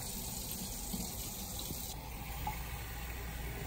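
Water is poured from a cup onto an iPhone XS in a freeze test, giving a steady splashing, trickling wash of liquid that runs continuously and fairly close without talk.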